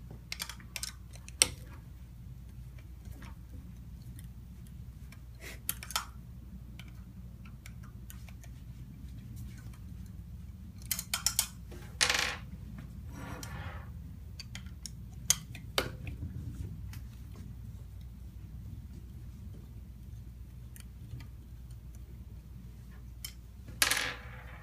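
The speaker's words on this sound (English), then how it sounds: "we'll start by removing the bolts from the can." A hex wrench works the bolts loose from the can of an SWP-4000 pump, giving faint, scattered metallic clicks and ticks against a quiet room.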